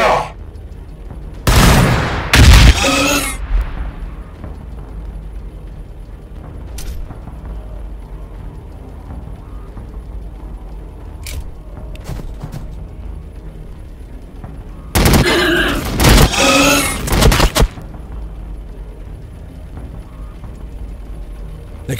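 Bursts of automatic gunfire from squads in the video game Warhammer Battlesector, two loud sustained volleys separated by quieter battlefield ambience with scattered mechanical clicks.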